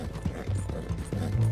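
A horse gallops in the video game Red Dead Redemption 2, its steady rhythmic hoofbeats close and clear over a low background tone.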